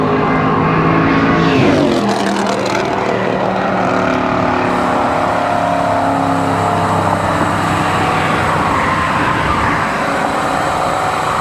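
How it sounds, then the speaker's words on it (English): Cars speeding past at well above 55 mph on a long bridge causeway to the east shore, heard from a cyclist riding into a headwind; loud, continuous traffic roar with wind rush, with a pass sweeping by near the start. "I think those cars are well above the 55-mile-an-hour speed limit"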